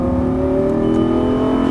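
A Lamborghini Gallardo LP550-2 accelerates on a race track, its engine a loud, close, sustained drone whose pitch climbs steadily under throttle, with no talking.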